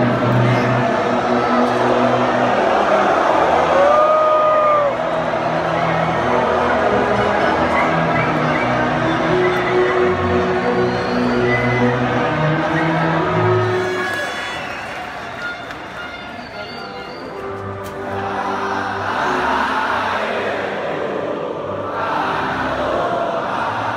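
A rough football crowd roars and chatters continuously, a dense, loud wash of voices with footfalls and shouts that dips briefly in the middle before swelling again.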